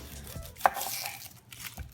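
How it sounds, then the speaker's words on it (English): A knife chops an onion on a cutting board, giving a few sparse, quiet taps close by with soft rustling between them and no talking. "Gonna cut up an onion."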